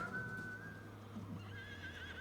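Horses in the farming game Farming Simulator 25 neigh and whinny in a long, wavering cry, joined by a second call later on, with a low steady rumble underneath and no talk.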